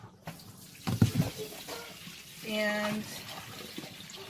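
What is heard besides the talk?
mini twin tub washing machine draining water into bin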